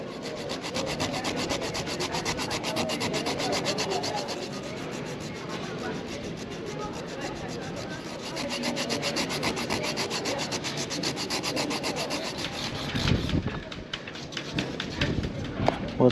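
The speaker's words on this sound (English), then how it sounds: "let's sand this up first so I'm not catching any of these burrs" Steady hand sanding across a wooden surface on a boat to knock down burrs, a continuous close scratchy rubbing sustained throughout with a brief change in stroke near the end.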